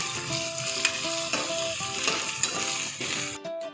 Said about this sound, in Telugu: ఇప్పుడు ఈ అల్లం వెల్లుల్లి పేస్ట్ కూడా ఆయిల్లో బాగా ఫ్రై అయ్యే విధంగా వేసుకుందాం